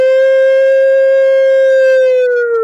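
A loud, steady siren tone holds nearly level, then sags slightly in pitch near the end, with no other sounds.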